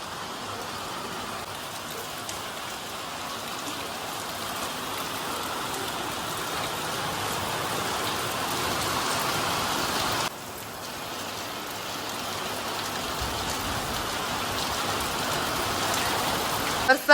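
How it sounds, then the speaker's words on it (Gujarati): Heavy monsoon rain pours down at home in Gujarat, a constant dense hiss of drops drumming on surfaces that holds steady and close throughout, with a brief dip midway before continuing at full strength. "જો ધબધબાટી વરસાદ આવ્યો"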